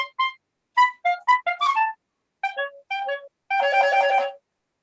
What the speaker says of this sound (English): has some music that sounds like this with lots of different kinds of bird calls